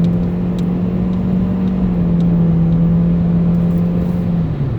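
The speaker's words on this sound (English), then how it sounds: "I gotta get the car up to 120 in like a little short span" A car in a driving game pushed hard toward 120 mph, giving a steady loud engine drone with a sustained low tone that slides slightly lower near the end, continuous and close with no talk over it.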